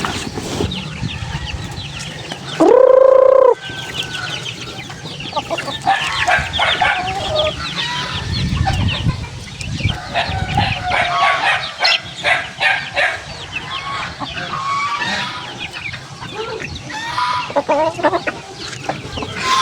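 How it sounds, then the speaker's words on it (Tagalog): Backyard chickens cluck steadily and close by around a newly built, larger coop, with overlapping calls throughout and a brief loud tonal squawk early on. "Bigyan natin ito mga manok. Ito na sila oh."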